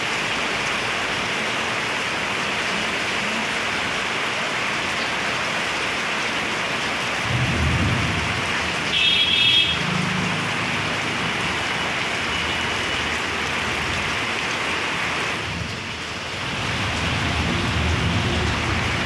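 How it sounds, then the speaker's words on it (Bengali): Heavy monsoon rain pours down outdoors in a continuous, dense hiss, with low rumbling swells rising and fading partway through. "আওয়াজটা শুনে নাও বৃষ্টির আওয়াজ"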